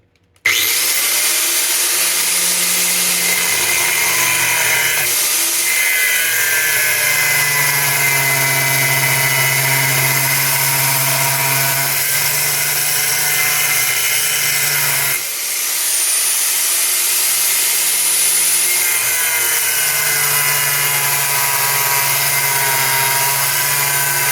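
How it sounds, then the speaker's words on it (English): An angle grinder cuts a groove into a stuck bolt on a Jeep TJ, producing a loud, close, sustained metallic whine whose pitch sags and recovers as the disc bites, running for over twenty seconds. "I think we're gonna take an angle grinder and see if we can cut a slot or cut a groove on each side"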